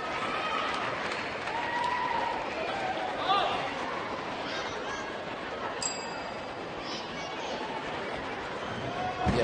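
Arena audience at a men's artistic gymnastics competition applauding a gymnast from Manresa after his routine, a steady spread of clapping and crowd noise under a commentator's voice.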